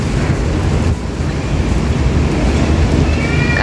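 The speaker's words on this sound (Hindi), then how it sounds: "काफ़ी तेज़ आंधी आई हुई है।" Strong windstorm with light rain heard from a balcony: loud, steady rushing roar of wind with a broadband hiss of rain, continuous and close throughout.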